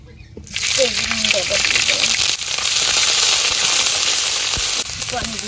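Fish sizzles in hot oil in a village kitchen, a loud, steady crackling frying sound that runs almost the whole time after a quiet start, with stirring and a voice speaking over it.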